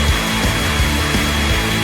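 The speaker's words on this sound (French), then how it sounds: "Comme avec un sèche-cheveux." A hair dryer blows on popcorn kernels, giving a loud, steady rushing whoosh with faint rattling pulses underneath, continuous from start to finish.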